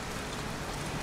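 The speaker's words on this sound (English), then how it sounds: "Goddamn rain." Rain falls heavily in the video game Heavy Rain at a scrapyard, a dense, constant hiss of drops close by, unbroken and with no voices.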